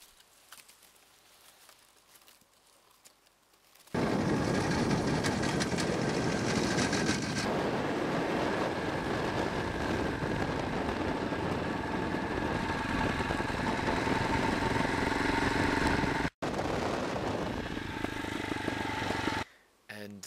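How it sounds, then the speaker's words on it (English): A single-cylinder KTM motorcycle engine drones steadily and loudly for most of the stretch, ridden through open African bush, after a quieter start and with a brief cut near the end. "the engine of the motorcycle, the single cylinder, is definitely scaring a lot of animals"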